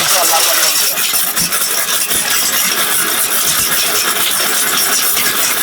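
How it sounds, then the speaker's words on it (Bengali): A loud, continuous high-pitched whir of a Ricco blender grinding turmeric, steady for the whole stretch with gritty rattling. "রিকোর ব্লেন্ডারের মধ্যে আপনারা হলুদে করবেন"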